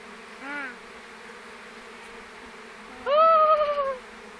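Buzzing honeybees from a swarm drift past close by: a short buzz, then a louder, nearer hum a few seconds later over a faint steady background drone.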